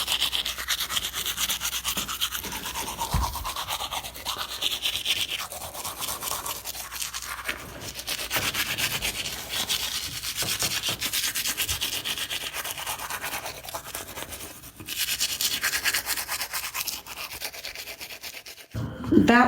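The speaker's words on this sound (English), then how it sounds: "That was obviously the audio of me brushing my teeth" Someone brushes their teeth close up, a steady scrubbing and rubbing with a brief pause near the middle and a louder bump at the end, with no talking.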